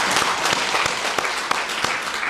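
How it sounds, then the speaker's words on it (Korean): A church congregation at a Sunday worship service in Icheon claps loudly and steadily, with a thick wash of applause and a few sharper claps standing out. "다시 한번 박수 해주시기 바랍니다"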